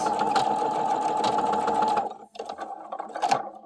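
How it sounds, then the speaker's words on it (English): Domestic sewing machine stitching a couple of passes over a folded serged fabric edge, a steady close mechanical whir for about two seconds, then stopping with a few short bursts and clicks. "I take him to my sewing machine, and while he's laid over, I just go over it a couple times"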